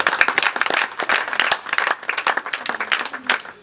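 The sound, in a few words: congregation applauding in church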